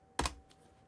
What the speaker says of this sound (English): in command prompt, type ipconfig/all.